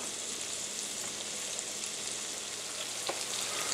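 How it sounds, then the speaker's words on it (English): Sausage browns in butter in a pan for New Orleans-style red beans, giving a steady, dense sizzle and crackle that runs close and even throughout, with a single louder pop near the end and no talking. "our sausage has been pretty much browning uh, for about 10 minutes"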